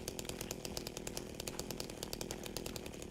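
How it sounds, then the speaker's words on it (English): A chainsaw roaring at a steady high rev in the game Silent Hill 2, loud and continuous with a buzzing, rattling drone and no pauses. "it is a chainsaw, you know, not a quiet saw."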